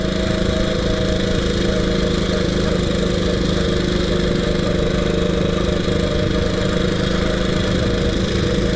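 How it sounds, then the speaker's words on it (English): A 1926 HRD Model 80 motorcycle with a Burman gearbox runs in second gear, a steady, loud, close engine drone with a faint whine layered over the rumble, continuous throughout with no speech. "Berman gearbox, see a bit of a whine in second gear"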